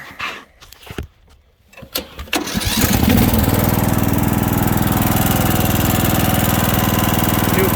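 A Craftsman LT1000 riding lawnmower with a 42-inch two-blade deck, new fuel filter and fuel lines, gives a few clunks and a brief crank, then catches and settles into a loud, steady, close-up engine drone that runs to the end.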